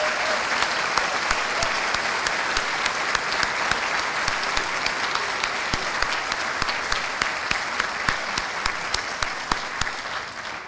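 Sustained audience applause for high school scholarship recipients at a community foundation recognition event, steady and even throughout with sharp individual claps popping out of the crowd.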